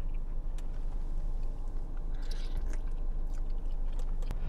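Someone chews oxtail meat dipped in a tangy vinegar sauce inside a parked car, with close, continuous wet chewing and crunchy bites over a low steady engine rumble.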